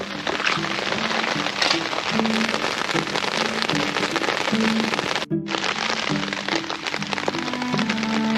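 Steady rain pours down over a home vegetable garden, a dense close hiss of drops on soil and leaves with scattered sharper patters, running continuously with one brief dropout partway through.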